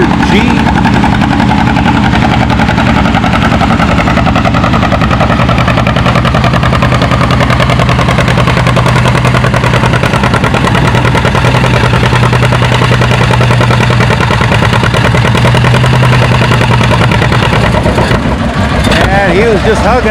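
A John Deere G tractor drags a 6,000-pound sled at a tractor pull, its engine roaring loud and steady with a throbbing, knocking note while a crowd and announcer talk over it.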